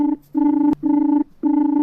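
A phone rings out to call an air-conditioner service: three long, steady electronic ring bursts separated by short gaps, clear and close, with no talking.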